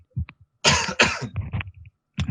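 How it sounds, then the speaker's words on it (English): A person coughs in a few short, harsh bursts close to the mic, with brief throat clearing between them and near-silence around them. "I'm gonna cough."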